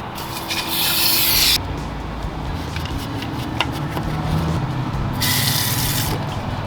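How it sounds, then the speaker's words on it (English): Brake cleaner sprayed inside the gearbox case of a 4-speed transmission being rebuilt: two close, loud bursts of pressurized hiss, one early and one near the end, separated by steady rubbing and handling noise. "So I'm gonna go ahead and spray some of this stuff on"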